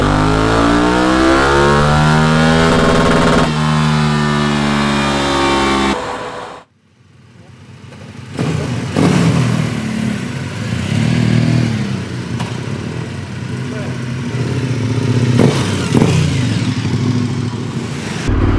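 A 2021/22 KTM 1290 Super Adventure S motorcycle engine, freshly ECU-remapped, revs hard and loud on a dyno, its pitch climbing steadily before cutting out, then rumbling roughly again while someone talks over it.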